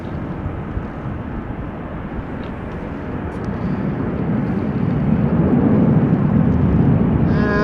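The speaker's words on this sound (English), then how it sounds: "It looks like an Embraer 175 to MST" Embraer 175 jet on a relocation flight at Amsterdam Schiphol, its engine rumble rising steadily in loudness as it approaches, alone without voices.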